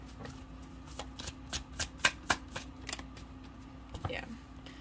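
Tarot cards shuffle in a run of crisp riffling bursts that swell in the middle, close to the mic over a steady low hum, with no voices.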